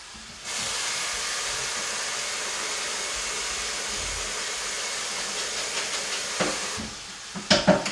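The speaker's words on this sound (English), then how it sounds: "Now my hamburger is about done browning" Ground hamburger browning in a pan gives a steady, loud, broad sizzling hiss that holds for several seconds, ending with a few sharp clattering pops and scrapes near the end.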